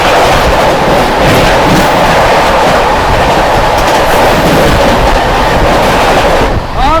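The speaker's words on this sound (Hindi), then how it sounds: "पटना राजधानी एक्सप्रेस" The Patna Rajdhani Express roaring past at close range, a loud sustained rush of wheels and wagons with rhythmic clatter, easing slightly and ending with a brief squeal at the finish.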